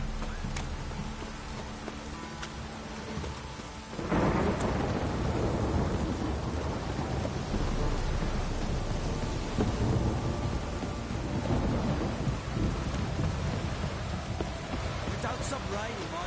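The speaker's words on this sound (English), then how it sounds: "Don't stop raining, my arse will rot off." Rain falls in The Witcher 3 with a deep thunder rumble, the downpour swelling loud and constant after a quieter start, while hooves clop and a voice speaks now and then.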